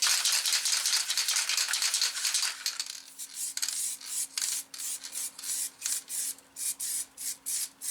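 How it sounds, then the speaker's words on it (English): A rattle can of weld-through primer sprays onto a car's rear inner wing panel, first in one long continuous hiss, then in a series of short, evenly spaced bursts, close and fairly loud. "Put a bit of weld through primer around there."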